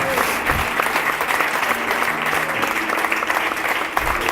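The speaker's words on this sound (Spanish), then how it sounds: "Dale un aplauso a Cristo que todavía habla." A congregation at a Sunday church service claps steadily, a dense continuous applause with no voices over it.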